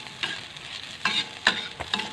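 Spring onions and spices stir-fried in a wok for kwetiau goreng, sizzling steadily with four or five sharp scraping strokes of the spatula spaced through the stretch, close and moderately loud, no voices.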